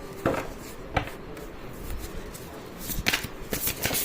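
Tarot cards being shuffled at close range, with soft riffling and sliding bursts spaced irregularly through a quiet room, the strongest flurries coming near the end.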